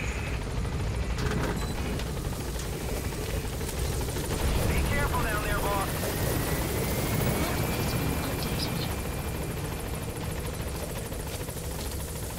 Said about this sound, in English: Oh great, as usual, have a flippin' helicopter.